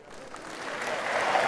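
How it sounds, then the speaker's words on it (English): Polite applause from a show-floor audience at the Gamescom 2023 games expo, a dense wash of clapping that swells gradually and grows louder over its short span, with no voices on top. "Polite applause."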